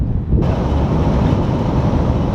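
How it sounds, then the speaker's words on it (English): Loud, steady roar of strong wind buffeting the microphone, a constant broadband rumble with no pauses. "But it is so windy"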